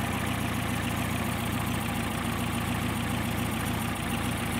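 A Porsche 356 engine idles after adjustment of its Solex 40P11 carburetor, giving a smooth, steady, close rumble with an even rhythm and no voices over it.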